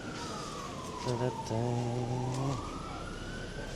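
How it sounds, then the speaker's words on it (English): An emergency vehicle siren wails on a London street, rising and falling over steady traffic noise, with a vocal-like passage in the middle. "A lot of action in London at the moment. A lot of sirens anyway."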